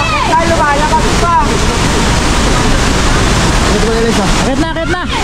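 Rushing waterfall in Malinao, Albay, a steady loud broadband roar of churning water throughout, with voices talking and calling out over it.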